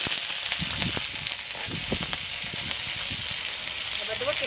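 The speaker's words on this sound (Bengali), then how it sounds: "তেলের মধ্যে এক অল্প একটু কালো জিরে দেবো চেরা কাঁচা লঙ্কা" Nigella seeds and slit green chilies hit hot oil in a home kitchen, giving a steady, bright sizzling hiss with small popping crackles throughout, close and even in level.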